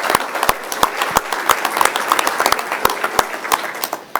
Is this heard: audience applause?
yes